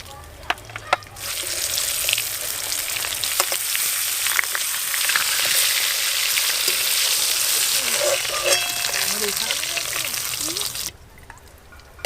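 Large pangas fish pieces from a 7 kg fish fry steadily in a kadai of oil, a dense continuous sizzle that holds loud for about ten seconds before dropping away, with faint stirring clinks near the start.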